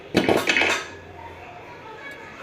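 A metal lid clanks down onto a cooking pot of coconut rice sitting on a dosa griddle, a couple of close, bright knocks with a brief rattle, then a quiet room.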